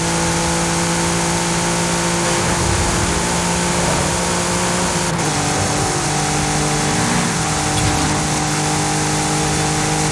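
Audi RS5 Coupe with a V6 engine accelerating hard in a racing video game, a steady loud engine drone rising in pitch with gear changes, no talking.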